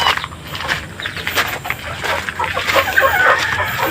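Backyard chicks clucking and cheeping around feeding time, a steady mix of soft close calls over a busy outdoor background, with no talk.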